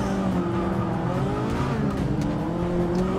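Race car engine from Forza Motorsport 6 roaring steadily at high revs with a continuous droning whine, faint tire squeal layered over the loud, sustained motor.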